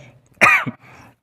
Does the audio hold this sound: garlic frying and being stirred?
no